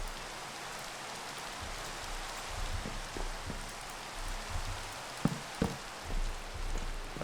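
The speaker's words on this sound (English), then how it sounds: "it's raining" Rain in Minecraft's Modern Skyblock 3, a steady close hiss of falling rain with scattered drop patters and a few soft thumps, with no talk over it.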